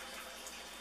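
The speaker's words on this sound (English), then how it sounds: "Then you add water." Tap water runs steadily into a sink or bowl while batter is being prepared for cooking, a continuous broadband hiss that stays even and close with no voices.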